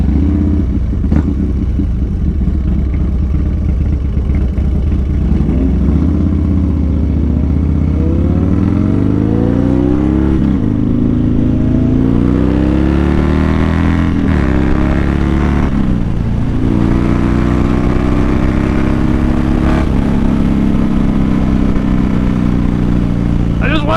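A motorcycle engine droning loud and close while riding, with rising and falling revs as it accelerates and shifts, and wind roar throughout.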